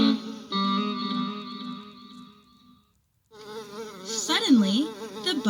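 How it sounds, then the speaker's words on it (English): A lazy housefly buzzing in a hot barn, a droning whine that wavers and swoops in pitch, close and fairly loud, broken by a brief silent pause before the buzz returns stronger and more erratic. "The only sound was the buzz, buzz of a lazy fly."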